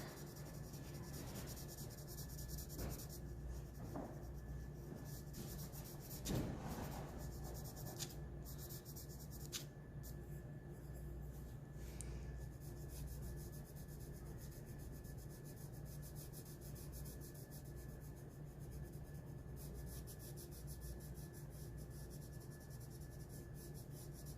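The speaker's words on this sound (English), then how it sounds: "And then I'm just going to rub in the rest." Pencil shading rubbed into paper while sketching a horse makes a faint, steady, close scratchy rubbing, with a few soft taps, and continues without talk.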